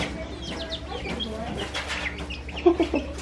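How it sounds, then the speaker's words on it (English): Soft clucks and peeps from baby chicks at a small zoo near Boston, Massachusetts come through amid background chatter and noise, with a few sharper, louder chirps near the end. "Little baby chickens."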